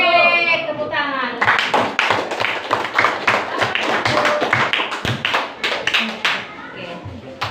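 A class of pupils claps hands together in a schoolroom after a group's answer. A voice speaks briefly at first, then loud, close clapping follows in a quick, patterned rhythm of crisp repeated beats.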